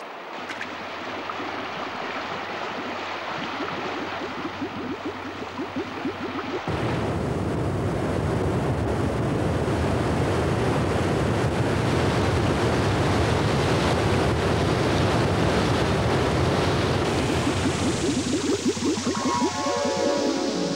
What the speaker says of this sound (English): Below the falls, the water is turbulent, but clear and well oxygenated.